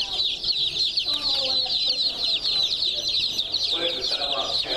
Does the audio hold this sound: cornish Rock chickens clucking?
yes